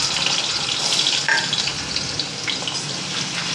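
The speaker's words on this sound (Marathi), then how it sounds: "एक बटाटा घेतला आहे मी, तो आपण ह्याच्यामध्ये फ्राय करून घेऊया." A potato fries in hot oil with a steady, close sizzling hiss that holds at an even level throughout, with no voices.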